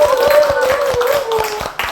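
An audience applauds at a Democratic Party gathering in South Gyeongnam, giving dense, rapid clapping close by with a sustained voice running over it.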